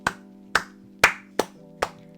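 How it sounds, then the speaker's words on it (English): Five single, sharp hand claps ring out at uneven intervals over a steady low hum, each clap loud and close with a short ringing tail. "Let's just give OP a round of applause here."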